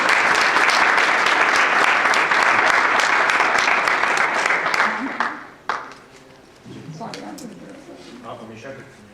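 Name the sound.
audience applause at a poetry gathering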